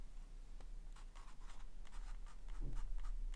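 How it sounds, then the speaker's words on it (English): Ink pen scratching across paper in short strokes while labeling an ink and watercolor butterfly drawing, quiet and close with no talk. "I'm gonna write here"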